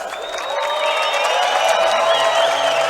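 Live esports crowd cheering and applauding at the Counter-Strike: Global Offensive World Championships 2016 LAN finals in Belgrade, a loud sustained roar with whoops that swells and holds throughout.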